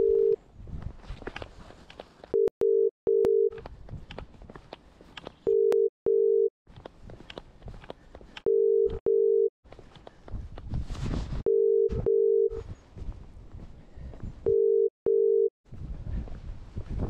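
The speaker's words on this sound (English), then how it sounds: "Passing T junction called home landline." A phone ringing tone from an automatic call to a home landline, set off when walking past a T junction, short paired tone bursts repeating at regular intervals over outdoor footsteps and street noise.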